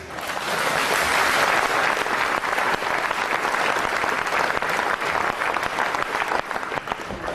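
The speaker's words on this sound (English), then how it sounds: "Give yourselves a round of applause." Delegates at a UKIP party conference in Bournemouth break into sustained applause, a thick, loud wash of many hands that rises in the first second and holds steady throughout, with faint crowd voices underneath.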